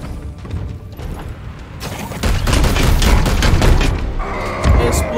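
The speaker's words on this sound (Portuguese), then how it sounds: "Explodiu." An explosion in the game Warhammer 40k: Chaos Gate - Daemonhunters: a loud, sudden burst of booms and crackling blasts that swells and lingers for a few seconds, with a voice talking in the mix.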